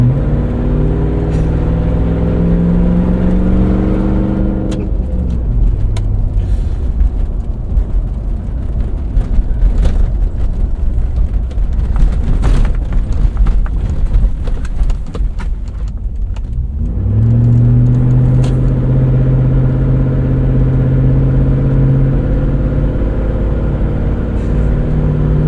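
Exhaust of a 2000 Lexus LX 470 with over 300k miles and the muffler removed, a loud deep rumble that swells into hard acceleration mid-drive, then settles back to a steady low drone, heard close from inside the cabin.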